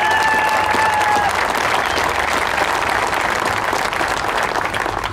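Loud, dense applause from a labor rally crowd cheering the state auditor, thick continuous clapping that stays steady and full throughout, with a brief shout early on.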